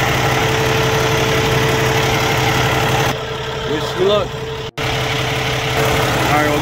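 A Freightliner Cascadia truck engine idles with a steady low rumble up close; midway the tone dips and shifts as the A/C compressor kicks in, with a sharp click before the idle settles back.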